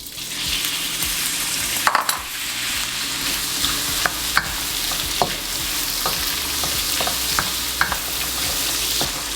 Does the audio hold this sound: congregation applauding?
no